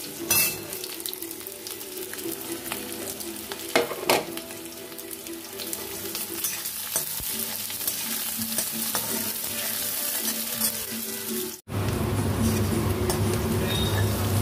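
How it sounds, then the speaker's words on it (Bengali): Chopped onions, green chilli and a whole garlic clove frying in oil, a steady close sizzle running throughout with occasional spoon scrapes and clinks against the pan, briefly cut off near the end before resuming. "দেখো পেঁয়াজটা একটু ভাজা ভাজা হয়ে গেছে"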